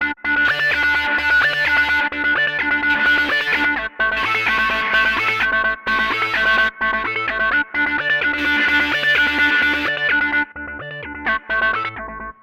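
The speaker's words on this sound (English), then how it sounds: "I literally just took all the distortions from here, from this section of distortion pedals, and I put them in a row." An EDM synth arpeggio plays through a chain of distortion pedal effects, with buzzy, gritty repeating note patterns that drop out briefly as different pedals are switched in and out.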